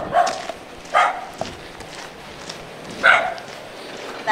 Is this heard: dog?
yes